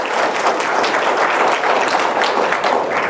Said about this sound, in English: So can we have a little clap of hand